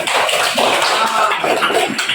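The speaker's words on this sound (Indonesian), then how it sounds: "Tepuk tangan" A primary school class claps hands together in a brief burst of applause, a brisk, loud patter of many hands close by lasting about two seconds.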